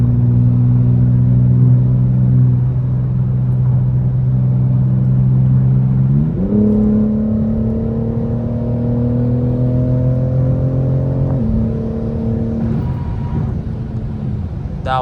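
A 900bhp BMW M4 with traction control off pulls at half throttle at night, its engine droning loud and close with rising pitch through gear changes.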